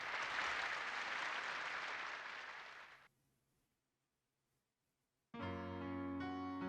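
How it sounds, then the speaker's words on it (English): Dense crowd applause from a concert audience in the visual novel White Album2 fills the first three seconds, then cuts to near silence before a sustained piano chord enters. "Applause, cheering, and excitement from one audience became more fervent as she goes from one piece to the next."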